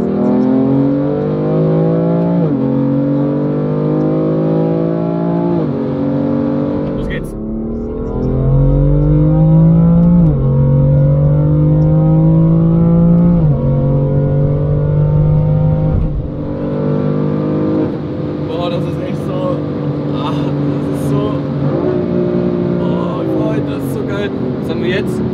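Tuned 700 hp BMW M4 pulling hard at full throttle, its engine climbing through the revs with several sharp gear changes, loud and close for the whole stretch, the note dropping and rising again after each shift.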